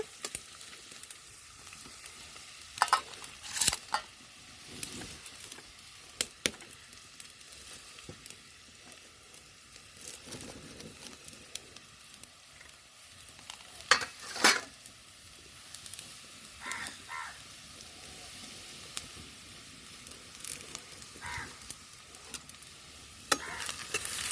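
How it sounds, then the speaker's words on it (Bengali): Sliced onions fry in oil tempered with whole garam masala, giving a low continuous sizzle broken by frequent sharp stirring clatters and scrapes of the spatula, fairly quiet and close, nobody speaking. "আমি ওই তেলের মধ্যে গোটা গরম মশলা ফোড়ন দিয়েছি, পেঁয়াজগুলো দিয়ে একটু ভেজে নেব"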